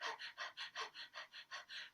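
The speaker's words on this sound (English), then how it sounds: "you're panting like a little puppy" Rapid, rhythmic mouth panting with the tongue out during yoga breath of fire, about eight even breaths in two seconds, close and clear with no talking.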